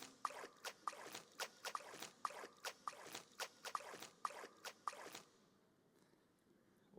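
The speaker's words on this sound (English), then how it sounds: "Now I only got water sounds." Library water sounds play as a string of regular splashy drips or dunks, about a dozen evenly spaced hits over five seconds, fairly loud, then falling to near silence.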